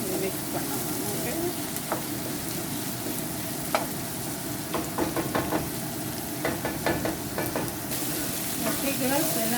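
Uppuma is stirred in a pan on a stove over a medium flame. A steady sizzle runs underneath while a spoon scrapes and clinks against the pan in irregular bursts.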